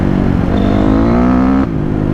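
A Honda CRF250R dirt bike engine revving hard and loud up close, a sustained rising buzzing roar that holds high before dropping back to idle, no talking.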